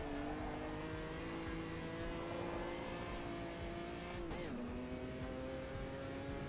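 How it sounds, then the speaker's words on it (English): Race car engine in the Automobilista 2 sim racing game, holding a steady high drone that drops sharply in pitch with a gear shift partway through, loud and continuous. "How do I rate the engine sounds?"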